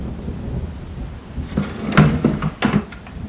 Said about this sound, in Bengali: বাইরে বৃষ্টিটা আরও বাড়ল তখন।